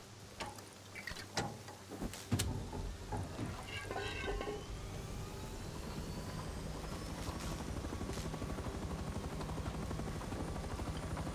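A helicopter in the video game Rust starts up after a few sharp clunks, then settles into a steady rhythmic rotor chop and engine whine, fairly quiet, with no speech.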